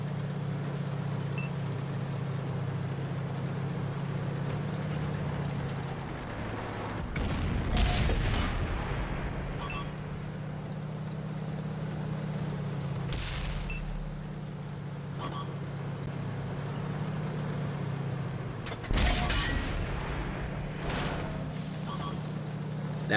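Heavy booming tank cannon shots from a WZ-111G tank destroyer in World of Tanks, a few spaced blasts over a steady low engine rumble.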